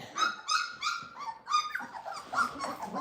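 Boerboel puppies whining and yipping in a rapid series of high, quavering cries, close by and unbroken by talk.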